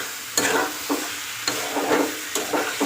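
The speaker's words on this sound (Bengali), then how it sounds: "5-6 মিনিটের মতো একটু ভালো করে ভেজে নিতে হবে, কষে নিতে হবে।" Jackfruit and soybean chunks frying and being stirred in a pan, with a steady sizzle broken by several sharp scraping stirs, close and fairly loud with no talking.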